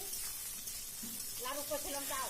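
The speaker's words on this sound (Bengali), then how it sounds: "তো এবার একটু নাড়াচাড়া করবো যেন পেঁয়াজটা লাল লাল মানে ভাজা হয়।" Onions and green chillies frying in a pan for a mutton curry, a soft continuous sizzle close by, with a voice talking over the second half.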